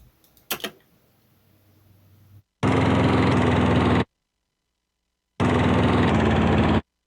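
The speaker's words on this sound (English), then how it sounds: "So let me play the lawnmower here." A lawnmower engine sample plays in two loud, even bursts of about a second and a half each, separated by silence, giving a gritty, droning motor tone.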